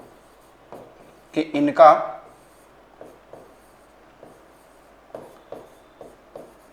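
Chalk or marker scratches across a teaching board in short, quiet strokes spread through the moment, while a teacher talks in between.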